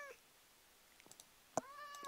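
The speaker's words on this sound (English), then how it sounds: "instead of dogs barking, we have cats meowing" Cats meowing in Minecraft, one faint meow at the start and a louder one near the end, with small clicks between in a quiet background.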